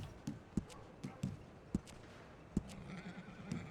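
Horse neighing and snorting in the video game Red Dead Online, short breathy bursts alongside soft hoof thuds, fairly quiet, with no speech over it.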